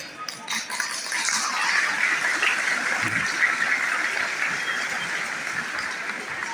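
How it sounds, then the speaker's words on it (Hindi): Boys in a school audience clap together at an annual prize distribution ceremony, a steady, dense round of applause that fills the whole stretch without pause. "लड़के बजाएंगे तालियां"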